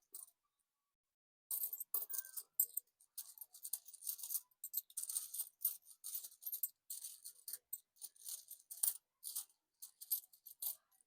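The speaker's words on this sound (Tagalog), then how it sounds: "Tinatabi-tabi natin mga barya." Small coins clink and rattle in quick, uneven bursts as they are picked through and set aside, close and quiet, with no one talking.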